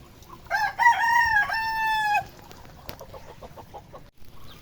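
Backyard chickens in rainy weather: a loud, near rooster-like crow rings out for about two seconds, followed by softer clucking and scattered farmyard bird sounds.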